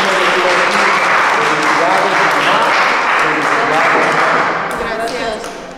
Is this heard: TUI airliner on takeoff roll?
no